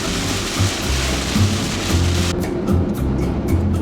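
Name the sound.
heavy rain while driving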